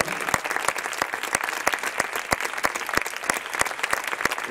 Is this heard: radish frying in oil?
no